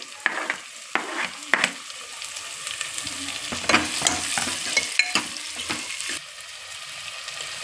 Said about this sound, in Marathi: आणि आता आपण याच्यात कांदा टाकून घेऊया